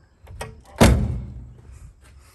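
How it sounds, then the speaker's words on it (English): Door of a 1972 Plymouth Duster with an AAR Cuda 340 six-pack engine swinging shut, a single solid thunk close by, preceded by a faint click and followed by a short fading rattle. "close the door"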